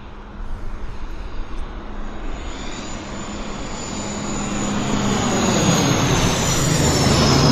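Convair airliner engines at Vancouver Airport, a loud broad roar that swells steadily over several seconds, heard alone without talk.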